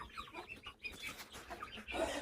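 Guinea fowl give a quick series of faint, scratchy clucking cries, close together in a brief burst.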